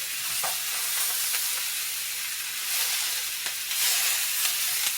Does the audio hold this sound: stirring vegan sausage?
yes